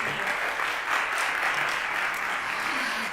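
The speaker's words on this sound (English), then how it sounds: "can we give our panelists and everybody a big round of applause?" An audience at an educational equity forum applauds the panelists, a full, steady wash of many hands clapping throughout, with no talking over it.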